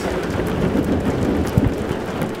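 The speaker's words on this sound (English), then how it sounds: "it was the giant thunderstorm that was about to land right on top of us" Heavy rain pours steadily with a deep rumble of thunder underneath, a dense, continuous roar with a brief low thud partway through.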